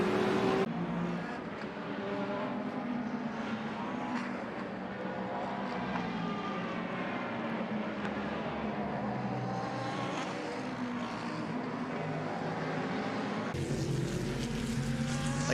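GT race cars, including a Ferrari, roar around Michelin Raceway Road Atlanta, a sustained distant engine drone rising and falling as cars pass, with a brief cut near the end.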